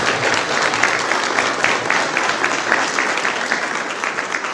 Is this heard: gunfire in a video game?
no